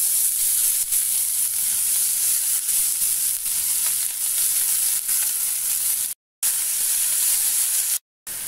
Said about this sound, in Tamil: அதோடையே நம்ம வெட்டி வச்சுருக்கிற அவரைக்காயை சேர்த்துக்கலாம்.